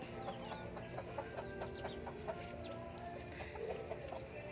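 Chickens in a cassava garden clucking in short repeated calls, with a few higher chirps from chicks, fairly faint against steady outdoor background noise and no talking.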